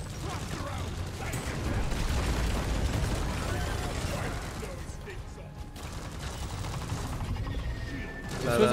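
Video game combat with continuous gunfire and explosions forming a dense, rumbling barrage throughout, with excited players talking over the noise.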